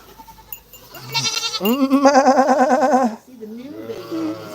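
A female sheep bleats loudly nearby, a long, deep, wavering call followed by a shorter, quieter bleat.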